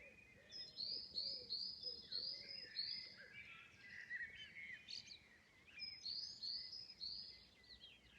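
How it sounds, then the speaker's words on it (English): Several birds sing and chirp at a distance in the evening just after rain stops, with bright overlapping calls and trills rising and falling over a quiet background. "I think the birds have been waiting for it to stop raining too."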